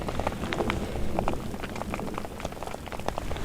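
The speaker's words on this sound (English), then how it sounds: "Well, it's a thunderstorm and a hailstorm." A thunderstorm with heavy rain and hail pounds outdoors near a rock ledge, making a dense, steady patter with scattered sharper impacts standing out across the whole stretch, loud and close.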